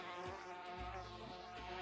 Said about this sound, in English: Leave me alone, bees.